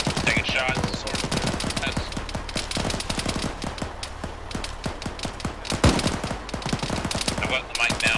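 Rapid machine gun fire in the military video game Arma 3 during infantry squad training, with dense clusters of sharp automatic bursts, some near and loud and others more distant, under occasional radio-style talk.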